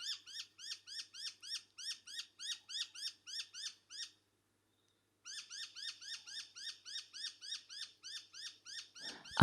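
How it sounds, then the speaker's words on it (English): A bird gives a steady series of short, high, evenly spaced calls that are close and clear, then pauses about a second before repeating the same rhythmic pattern, ending with a brief bump. "What are you trying to say, bird?"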